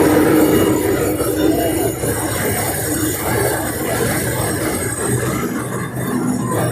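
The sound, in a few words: puffed rice (muri) making machine running as rice feeds in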